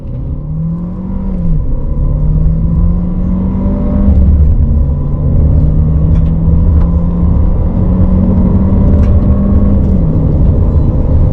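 A VW Passat B8.5 in sport mode accelerates hard at full throttle, its engine note climbing through a long, loud, steady pull with a brief gearshift dip, heard from inside the car with no talking.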